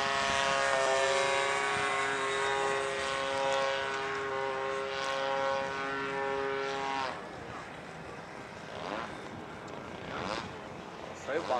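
A Yak 54 model airplane's small gasoline engine buzzes loudly with a steady high whine, then drops off and fades as it flies away, with Portuguese voices talking over it.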